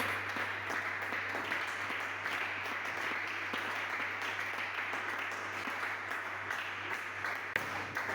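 A church congregation applauding Jesus with steady, sustained clapping that fills the whole stretch at an even level, no voices standing out.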